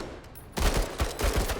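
Rapid bursts of automatic gunfire in the Menace video game, a close, loud fusillade of repeated shots that starts abruptly after a short quiet lead-in and continues with uneven pulses.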